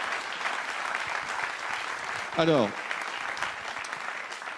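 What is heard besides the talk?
studio audience applause on TV show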